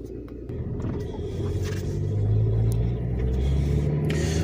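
A 2005 Scion xB engine rumbles steadily while driving on a cold day, a low continuous drone that builds slightly toward the end, with a few faint clicks and knocks over it.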